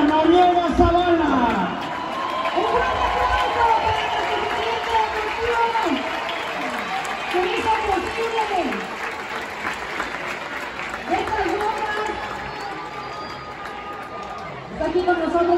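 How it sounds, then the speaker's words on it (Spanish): Crowd applause at a women's football team presentation of new signings for Rayadas, Monterrey, steady clapping through the whole stretch with an amplified voice and voices over it. "un fuerte aplauso una vez para nuestro presidente"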